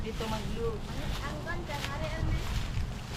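Wind rushing across the microphone in a steady, gusty roar, with faint bird chirps and a distant voice underneath.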